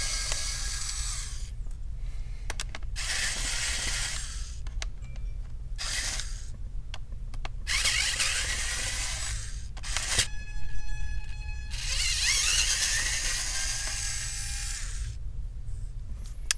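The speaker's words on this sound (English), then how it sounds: "There was a stubborn screw. Doesn't want to come out. I need to put quite a bit of a pressure." Stubborn screws are removed from an Alienware M17 laptop with a small electric screwdriver, which whirs in repeated bursts separated by pauses and faint mechanical clicks, close and moderately quiet, with no speech.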